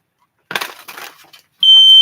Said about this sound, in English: My stupid smoke detector